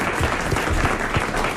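Dense, steady applause from a large television studio audience, continuous clapping filling the whole moment with no voices.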